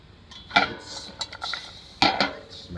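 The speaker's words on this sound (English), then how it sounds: "Take my spoon, mix it up here." A metal spoon stirs frozen blackberries in a cooking pot for a low-calorie blackberry dessert, giving a couple of sharp, close clinks against the pot with light scraping between them.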